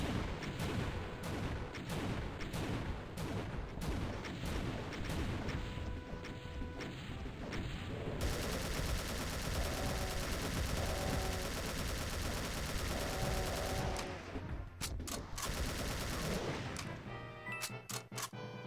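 Minigun fire in the video game Doom, a sustained rapid stream of shots with heavy crashing impacts, loud and continuous throughout with scattered hits and no talk.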